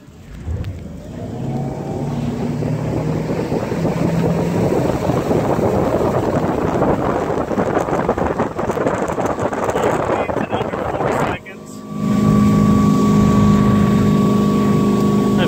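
A 2010 Cobalt 210 motorboat on the water accelerates onto the plane, its engine rising into a loud, steady roar mixed with wind buffeting, then briefly dropping before returning stronger; someone talks over it.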